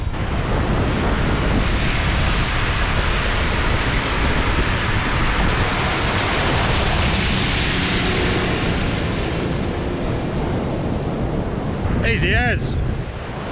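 Ocean surf on a coastal beach along the D'Entrecasteaux coast, a loud continuous wash of breaking waves with heavy wind buffeting the microphone and a brief voice near the end.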